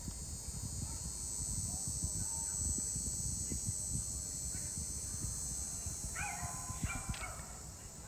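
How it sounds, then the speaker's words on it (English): Small dogs yap in a dog park behind a golf course hole, a few faint distant yips and barks heard over steady outdoor ambience with insect buzz and background noise. "We've got the little yappers in the dog park back here behind hole 15."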